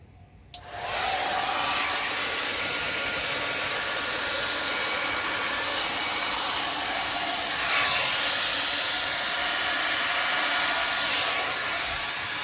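A blower pushes air over black acrylic paint in a pour, producing a steady, loud, close whooshing hiss that starts abruptly and holds evenly to the end.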